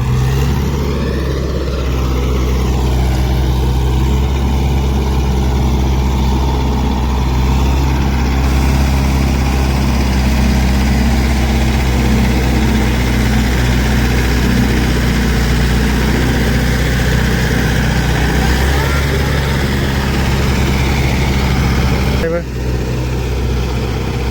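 A loud, steady four-wheel-drive tractor engine idles close by in mud with a low, constant rumble and vibration that holds throughout, briefly shifting near the end.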